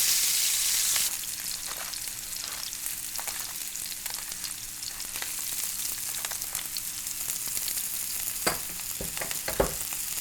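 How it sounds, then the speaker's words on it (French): Squash frying in a pan over medium heat, a steady crackling sizzle with fine spatters throughout and a couple of sharper pops near the end, close and even, no talking. "Maintenant, on va la poêler. On va cuire la courge à feu moyen."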